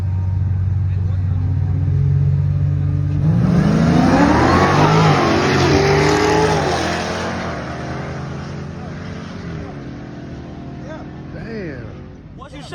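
A Dodge Scat Pack 1320 drag racing against Hellcats roars loudly as it launches and accelerates hard, engine pitch sweeping up through gears before fading into the distance, with voices underneath.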